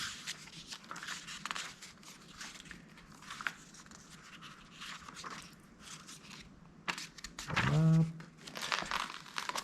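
Thin paper pages of a deluxe illustrated Lord of the Rings anniversary edition crinkling and crackling as they are turned, a run of soft rustles that grows louder and crisper near the end, with a brief voiced sound mixed in.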